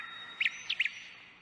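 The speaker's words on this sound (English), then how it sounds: "There was a blackbird in the tree. It sang a happy song." Short, faint chirps from a bird in a tree come in a few quick high notes over a thin steady background hiss.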